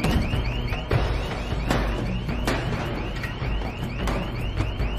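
A car-style alarm blares in a French action film scene, a loud repeating electronic whoop cycling steadily without pause amid a noisy background.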